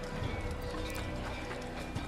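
Horse hooves clip-clop at a gallop in the video game Assassin's Creed, a steady rhythmic run under dense game music and ambience.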